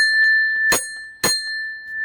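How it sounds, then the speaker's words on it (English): A small bell, probably a bicycle-type bell, is struck twice in a garden. Each strike gives a bright metallic ding, the two about half a second apart, and a clear ringing tone hangs on throughout. "Ring the bell."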